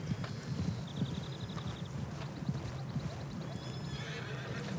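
A horse in a video game whinnies with a bright, descending neigh, followed by a quick run of rhythmic clip-clopping hooves, heard moderately loud over steady game ambience.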